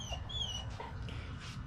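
A dog whimpers and whines in short, thin, high cries, faint and close, over a low steady background hum.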